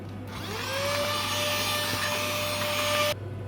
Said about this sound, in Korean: 그래서 청소기가 진짜 필요해요.